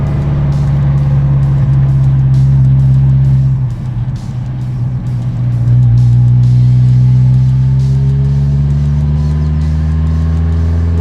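A Ferrari 308 drives along with a steady low engine drone. The engine dips briefly around the middle, then pulls harder with a rising, louder tone near the end, close and continuous throughout.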